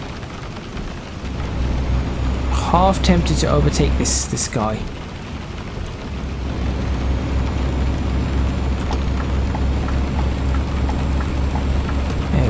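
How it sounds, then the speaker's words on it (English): Steady rain drumming in Euro Truck Simulator 2 with the Promods map, a constant hiss over a low truck engine drone while someone talks briefly partway through. "We can work through the rain as well."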